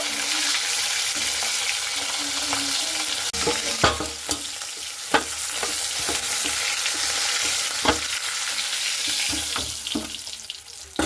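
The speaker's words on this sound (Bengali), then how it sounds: "বাকি যে মাছের মাথাগুলো আছে সেইভাবে সেম ভাবে আমি ভেজে নেব" Fish heads fry in a hot pan with a continuous loud sizzle and hiss, broken by occasional clacks and scrapes of a utensil against the pan. No one speaks.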